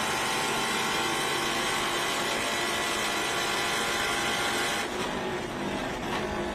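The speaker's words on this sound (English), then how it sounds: "car just going through its paces" A race car engine screams at high revs on the track at Watkins Glen during a SpeedTour event, a loud sustained whine that shifts pitch slightly near the end, no speech.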